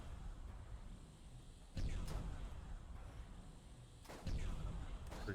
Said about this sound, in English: Friggin' missile turret.